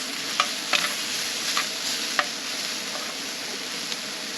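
Mushrooms frying in oil on a Tembo Tusk skottle outdoors, a continuous bright sizzle with scattered light pops and utensil taps spread across the clip, moderately loud and without talk.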